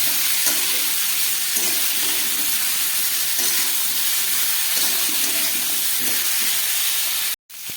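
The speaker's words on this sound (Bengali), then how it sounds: "আদা বাটা ধনে জিরে দিয়ে এটাকে আরেকটু ভালো করে কষিয়ে নেব।" A spice paste of ginger paste, ground coriander and cumin frying in a pan for a papaya, potato and chickpea curry, giving a steady, hissing sizzle with faint stirring scrapes, close and continuous, cutting out abruptly near the end.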